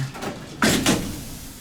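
Otis/Thyssenkrupp traction elevator doors at a hotel tower in Toronto, a rough sliding rumble with two quick bursts of motion close by, then fading into quiet room tone.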